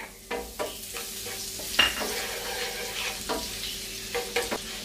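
Garlic fries in a little olive oil for ginisang repolyo, a constant close sizzle with a few spatula knocks and scrapes against the pan as it is stirred.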